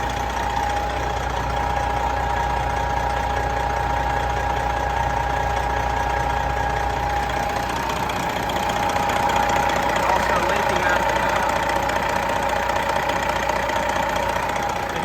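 A 2016 Freightliner Coronado glider daycab truck with high mileage and some blow-by idles nearby, a steady, loud, droning rumble with a constant whine that holds without change throughout.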